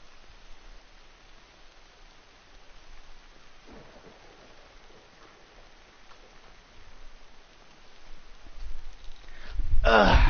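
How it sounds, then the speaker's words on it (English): Rain and thunder in the video game Death Stranding: a steady hiss of rainfall and low rumbling that grows louder, ending in a heavy close burst. "we're now out of the snow, but it's like raining now"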